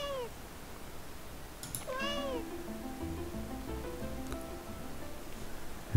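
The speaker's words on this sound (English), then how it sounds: "And as he grows big, he's going to meow." A few short, high cartoonish meows from Microsoft 3D Movie Maker, faint over a low background hum, spaced apart across a few seconds.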